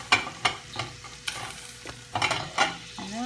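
Celery and cremini mushrooms cooking in a pan, a soft sizzle with a spoon stirring and scraping in several short bursts, close up and fairly quiet.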